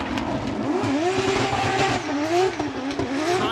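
A Lexus IS 500 F Sport Performance drift car at a Formula Drift Japan event roars with rising and falling engine revs while its tires squeal continuously through a slide, loud and sustained.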